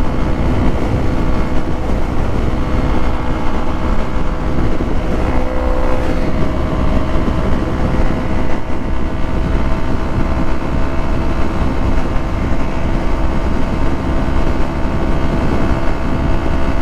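A Yamaha MT-03 motorcycle with its stock exhaust runs at about 8,000 RPM at highway speed on the interstate, giving a loud, constant engine drone blended with heavy wind roar and no pauses.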